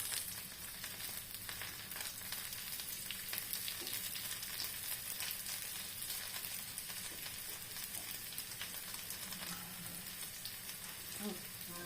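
Garlic and dried fish (daing) frying in hot oil, a loud, continuous crackling sizzle with stirring scrapes throughout.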